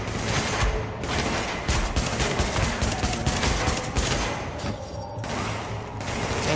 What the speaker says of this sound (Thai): มันเริ่มยิงละแสดงว่าเวลาอยู่ในระยะยิงมันก็จะยิงครับ